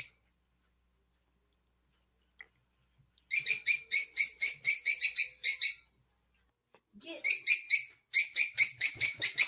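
A pet bird chirps indoors in two quick bursts of bright, rapid tweets, loud and close, separated by silence.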